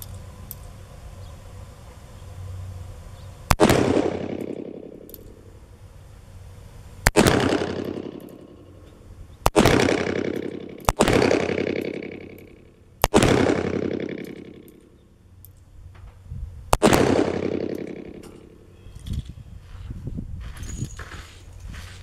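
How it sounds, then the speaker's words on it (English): A .357 Magnum revolver with a 4-inch barrel fires five loud, sharp shots over a chronograph outdoors, spaced a few seconds apart, each crack followed by a long ringing decay. "we're going to be putting the Magnum rounds from the 4-inch over the chronograph"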